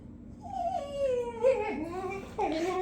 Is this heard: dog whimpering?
yes